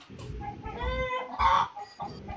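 A chicken clucks and squawks nearby, a run of several rising, strained calls over rustling background noise, with no talking.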